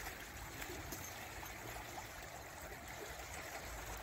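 Steady flowing river water streams and trickles continuously around a thermometer immersed for a temperature reading, a constant close broadband rush with no talk.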